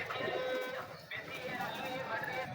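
Breeder pigeons coo softly in a loft, their low rounded calls repeating beneath someone speaking over them, with faint chirps in the background.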